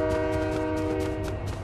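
A video game train sounds a sustained, loud horn, one steady tonal blast with rumbling rail noise underneath and no speech.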